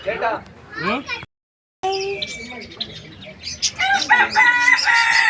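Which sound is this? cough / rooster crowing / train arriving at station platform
rooster crowing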